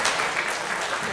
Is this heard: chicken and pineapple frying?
no